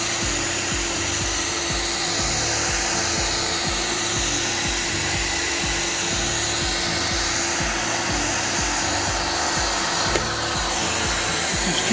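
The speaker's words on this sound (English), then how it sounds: "going to try and keep the gun quite close to it, just working the heat across the plastic" A heat gun blows hot air across faded plastic car trim, a loud, steady whooshing roar with a constant hum, close by and continuous the whole time with no voices.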